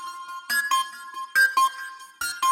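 A lead synth loop sample pitched up by 23 cents plays a short, bright repeating melodic phrase with sharp percussive hits in a steady rhythm, alone and clear for a few seconds.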